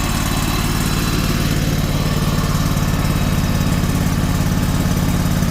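AGT KTT23 mini loader engine running on a jobsite, a loud, steady low chugging idle that continues throughout with constant vibration and no talk.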